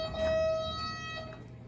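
An old Dover elevator in a campus student center bookstore sounds a single clear electronic chime tone that holds steady for over a second before fading, over a low background hum.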